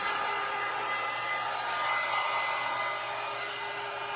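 A hair dryer blows steadily and loudly close by, drying a painted snowman craft made from a fan blade, a continuous even whoosh with no pauses.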